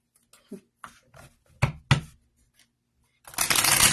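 A deck of cards is handled in a quiet room: several soft taps and flicks, two sharper slaps, then a loud riffling shuffle near the end, close to the microphone.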